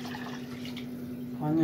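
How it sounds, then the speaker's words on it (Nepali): Water poured into a pot of pulao as it cooks, a steady soft pour over a constant low hum, with a voice briefly speaking near the end. "यो हाल्यो पानी"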